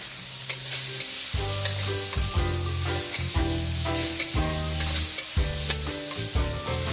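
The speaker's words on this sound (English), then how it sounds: "we're going to add all our seasonings: soy sauce, fish sauce, sugar, black pepper, and then we're going to mix for 15 seconds" Beef stir-frying in a pan with soy sauce, fish sauce, sugar and black pepper, a loud continuous sizzle under rhythmic stirring and scraping, with no talking.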